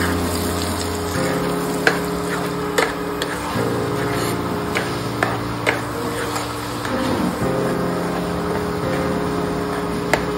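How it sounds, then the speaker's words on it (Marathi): Tomato, chili and cashew paste frying in a pan for paneer butter masala, a steady close sizzle and bubble with occasional sharp ticks and a low hum underneath. "त्यात आता जो टोमॅटो, मिरची व काजूची मिक्सरला पेस्ट केली होती"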